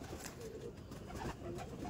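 Pigeons coo softly in a lively Bengali loft, their low murmuring calls repeating close by over a steady background hum, with faint rustling that suggests restless birds moving about.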